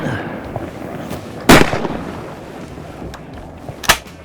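Two sharp shotgun blasts fired at ducks on a waterfowl hunt, about two seconds apart, loud and close over an outdoor background, with no talk.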